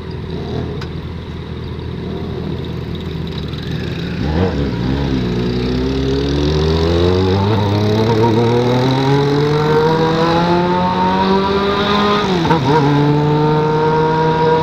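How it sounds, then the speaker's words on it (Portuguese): Engine of a Yamaha XJ6 motorcycle riding through a neighborhood road, revving and climbing steadily through the gears, loud and close throughout, with a brief gear change and a second rising pull; no talking. "Muita moto, muito carro."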